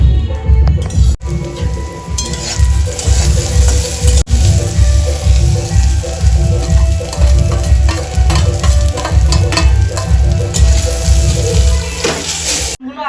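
Neem leaves frying in a little oil in a wok, a loud sizzle with rhythmic low scraping and stirring throughout, with no one speaking.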